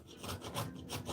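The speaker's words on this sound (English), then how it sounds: "That's a lot of cucumber to grind." A whole cucumber scrapes across a grater in quick, even strokes, a soft close rasping rhythm with no talking.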